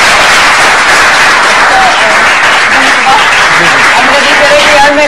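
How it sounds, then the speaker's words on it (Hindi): Loud, sustained audience applause for a cricket player on a televised cricket talk show, a dense, close roar of clapping that fills the entire stretch without pause, with faint voices underneath. "तो जोरदार तालियां इनके लिए"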